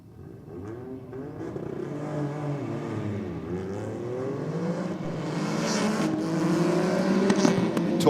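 A Toyota Yaris and a Mercedes launch down a drag strip, their engines roaring loudly and climbing steadily in pitch as they accelerate hard through the run.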